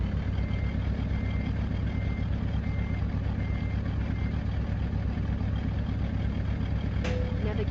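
A heavy truck idling in American Truck Simulator, a deep steady engine rumble that holds evenly throughout, with a brief chime near the end.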